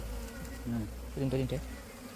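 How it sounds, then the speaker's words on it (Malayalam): Honey bees inside a plastic can buzz loudly as the can is tapped, the drone swelling in short bursts during a hive transfer. "കണ്ണാസിലെ ഈച്ചകളെ ഒന്ന് തട്ടി നോക്കുകയാണ്"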